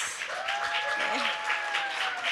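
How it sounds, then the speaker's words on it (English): An audience at a career fair session gives the speakers a warm round of applause, steady, moderately loud clapping throughout, with a faint tonal whine and some voices beneath it. "let's give them one more warm round of applause"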